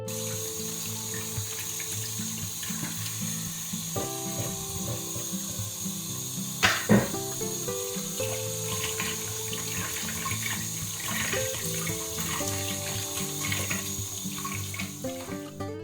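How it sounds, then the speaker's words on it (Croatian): Running cold tap water pours over large, juicy tomatoes as they are washed under the faucet in a kitchen sink, a steady splashing stream with a brief clunk partway through. "prvo ću ih dobro oprati pod mlazom hladne vode"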